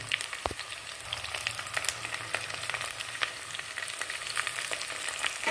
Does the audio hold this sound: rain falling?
no